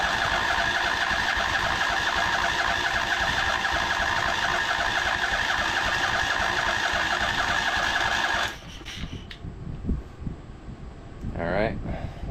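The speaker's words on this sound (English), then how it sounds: "Now we can close the choke, and then we'll go ahead and just hit the starter." A scrapyard Craftsman V-twin engine drones loudly and steadily for about eight seconds, then cuts out abruptly, leaving faint clatter and handling noise.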